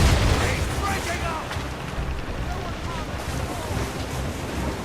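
Ship cannons firing at sea in Assassin's Creed Rogue, heavy booms rumbling amid crashing waves and wind, a dense low roar throughout with voices faintly beneath.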